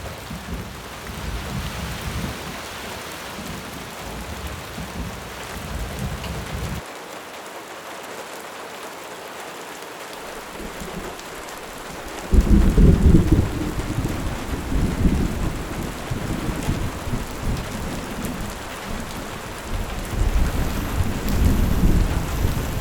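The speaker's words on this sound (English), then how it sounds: "persistent rain welcomes us" Persistent rain in the Colombian Andes mountains pours in a dense, hissing wash, briefly dropping quieter before returning heavier, with low rumbling beneath.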